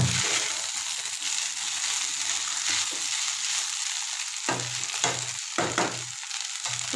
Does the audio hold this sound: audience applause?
no